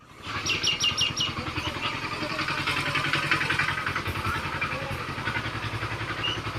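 A motorised engine van passes in front of a village house, its engine putting steadily with a rhythmic throb that stays fairly loud and near, while birds chirp briefly early on.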